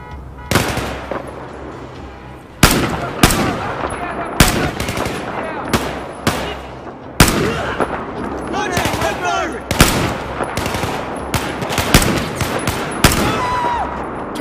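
Machine gun fire in the Battlefield 4 video game, loud bursts of automatic shots and heavy blasts repeating across the stretch, with a soldier's voice shouting over the battle.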